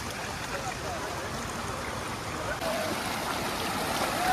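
Water rushes steadily at a stream below a tall waterfall near Devgad, a broad, even wash that holds a constant level and swells slightly toward the end, with no voices.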